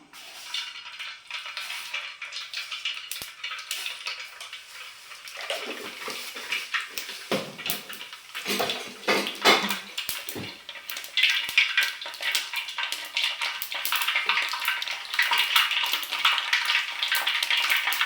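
Hot oil sizzles in a pan with a loud continuous hiss, crackling and popping sharply as mustard seeds splutter, growing busier toward the end.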